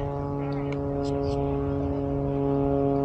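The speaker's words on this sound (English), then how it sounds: "Listen to that motor. That thing is singing." A propeller plane flies overhead into the wind on a spring day at Oak Island, North Carolina, giving a steady, continuous droning engine hum with a strong harmonic tone that holds evenly for the whole stretch.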